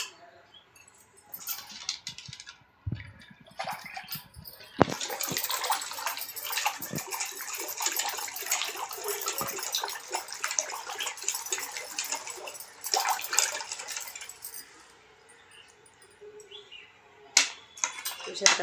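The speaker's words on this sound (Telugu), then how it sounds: "ఇప్పుడు ఫ్రిడ్జ్ వాటర్ కొంచెం వేసుకుంటున్నాను." Cold water from the fridge is poured into a bowl or container while making a banana and grape lassi in a home kitchen, a steady splashing stream lasting about ten seconds between a few clinks and handling noises.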